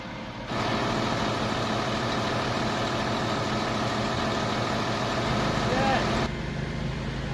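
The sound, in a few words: large drain truck engine idling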